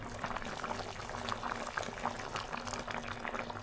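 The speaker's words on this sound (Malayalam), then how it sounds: "അപ്പോൾ ഇത് നമ്മുടെ മീൻകറി ഇങ്ങനെ നല്ലോണം തിളച്ച് റെഡി ആയിട്ടുണ്ട് കേട്ടോ" Fish curry boils vigorously in a clay pot, a dense, steady bubbling and popping heard up close, continuous and fairly loud throughout, with a faint low hum beneath and no talking.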